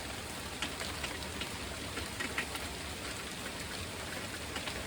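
Steady, dense rain pours down without a break, with close drops pattering on a surface and no voices.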